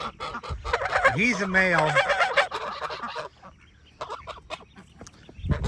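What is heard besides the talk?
geese honking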